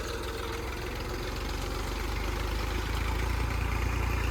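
A Massey tractor engine idles steadily at a farm while being tested with a 16-disc harrow, its low, even rumble running continuously and close by with no talk over it.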